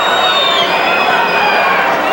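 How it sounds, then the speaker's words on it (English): Big boxing crowd at Memorial Coliseum chanting the fighter's name Jesse, a sustained loud roar of many voices filling the whole moment. "the chant of Jesse. Jesse goes up from the big crowd here at Memorial Coliseum"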